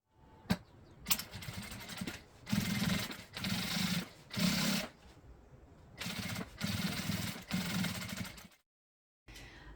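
A sewing machine runs topstitching at stitch length 4.5 on a boxy fabric toiletry case, in several quick bursts of close, rapid mechanical chatter separated by short pauses, ending in silence.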